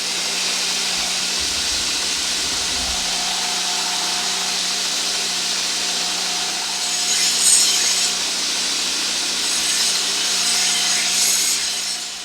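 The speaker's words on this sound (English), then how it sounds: "So I'll grind that and make a nice grip for it." Wooden hunting knife handle ground into a grip with a power tool, a steady close abrasive rasp with a low hum that briefly intensifies near the middle and end, no talking.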